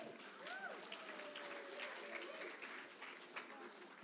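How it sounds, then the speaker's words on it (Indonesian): Audience at an Atomy bonus seminar breaking into steady applause, a dense patter of clapping that runs evenly for the whole stretch at fairly low level, with faint voices underneath. "Nggak mau tepuk tangan?"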